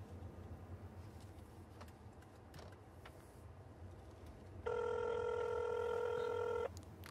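A telephone rings in a Punjabi drama scene: one steady electronic ring tone lasting about two seconds, loud and clear over a low rumbling background of passing road traffic.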